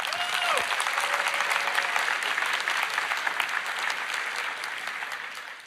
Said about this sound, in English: Today, yeah, you can applaud.